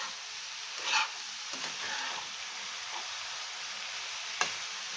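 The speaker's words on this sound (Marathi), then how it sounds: "तुपावरती आपल्याला छान परतून घ्यायचा आहे हा हलवा" Grated carrot halwa sizzles in ghee with a soft, continuous frying hiss, broken by a few light stirring scrapes and one sharp tap against the pan; close-up and fairly quiet, with no voices.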